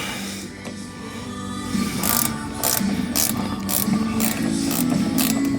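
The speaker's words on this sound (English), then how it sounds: "You know, I sure like these ratchet and wrenches." Ratchet wrench clicking as it turns bolts on the steering gear box of a 1977 Chevrolet C10 pickup in a shop, a steady run of close, crisp pawl clicks building into evenly spaced bursts.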